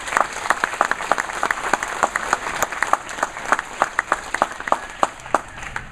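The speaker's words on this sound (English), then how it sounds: "I commend and applaud them all." Scattered, crisp individual claps from a small audience at a fifth-grade school ceremony ring out steadily throughout, moderately loud with no voices over them.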